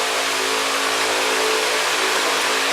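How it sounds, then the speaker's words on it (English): A car engine runs steadily after being restarted following the removal of unneeded wiring, a constant close idle-to-revving drone filling the whole stretch with no talk. "we will turn the engine back on"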